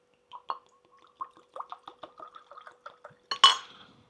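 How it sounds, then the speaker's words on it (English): A cork eases out of a rum bottle with a run of small squeaks and clicks, then a sharp, bright pop near the end, close and clear in a quiet room. "Popping the cork."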